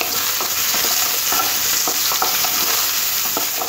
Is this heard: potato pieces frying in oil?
yes